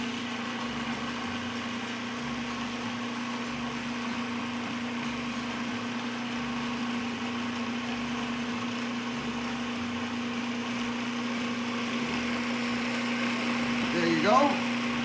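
A blender runs steadily, whirring as it mixes taramasalata with sunflower oil, a constant drone lasting throughout with faint background sounds and a brief burst near the end.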